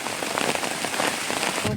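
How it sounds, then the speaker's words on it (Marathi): Heavy rain pours down in a dense, steady hiss over farm fields in Ratnagiri, Konkan, with drops spattering on surfaces nearby; no voices. "पाऊस भरपूर आहे"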